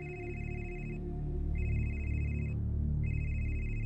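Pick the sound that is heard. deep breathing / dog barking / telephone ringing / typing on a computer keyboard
telephone ringing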